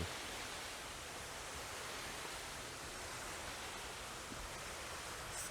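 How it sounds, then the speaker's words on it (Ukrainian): Water from a small mountain waterfall rushes in a steady, dense hiss, close and constant throughout, with no voices. "Тобто водоспад ось він і він відразу."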